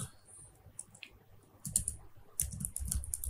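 Fingers type on a computer keyboard with sparse clicks at first, then denser bursts of close key taps and clatter during an HTML coding lesson.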